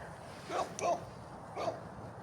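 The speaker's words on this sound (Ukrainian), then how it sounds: "Собака." A few faint, short dog barks in quick succession, somewhat distant against a quiet background.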